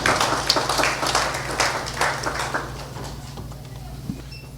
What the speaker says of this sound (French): Sous vos applaudissements, Maître Josué Beaubrun